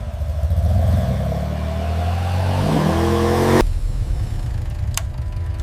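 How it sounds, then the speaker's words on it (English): A new black Harley-Davidson motorcycle revs hard at full throttle, its loud engine climbing in pitch, then cutting off sharply and dropping to a lower running rumble with a few faint clinks. "One last full throttle run to here, just to hear that beautiful music."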